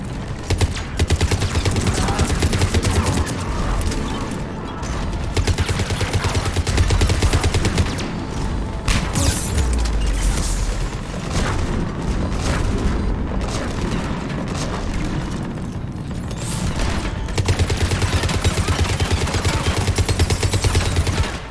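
Heavy cannon fire and explosions in the video game Mass Effect 3 pound continuously, a dense barrage of loud booms and rapid gunfire without speech.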